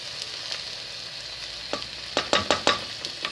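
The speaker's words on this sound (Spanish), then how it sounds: "Y vamos a revolver bien a fin de que se mezclen los sabores" Cleaned barley grains are added to a sizzling vegetable sofrito with celery and stirred, giving a steady hiss with a cluster of sharp scraping and clattering stirs toward the end, close and alone.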